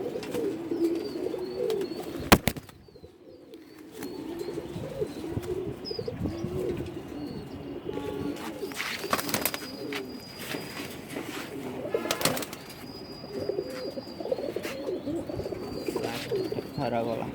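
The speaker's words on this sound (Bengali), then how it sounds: "সুন্দর কবুতর" Male pigeons coo continuously close up amid a busy flock, with broadband rustling, a few sharp clicks and occasional wing flutters; a voice speaks intermittently.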